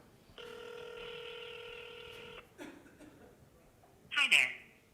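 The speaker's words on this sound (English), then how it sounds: "So I'm dialing a phone number now." A phone number is dialed on a telephone, producing a long sustained multi-tone beep, then a couple of short tone blips and a final louder burst of keypad tones, fairly clear over a quiet background.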